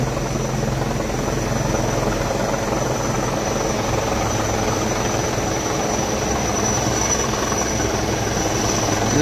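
An army helicopter flies over a flooded area near Lakhanpur and Kathua in Jammu and Kashmir after heavy rain. Its rotor drone is loud, steady and close for the whole stretch, with no talk.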